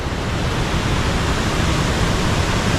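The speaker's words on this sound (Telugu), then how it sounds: "చూడండి అసలు వాటర్ ఎలా ఫ్లో అవుతూ ఉందో." Water rushes down Devakunda Waterfalls in a loud, unbroken roar that fills the whole stretch, with no voices heard over it.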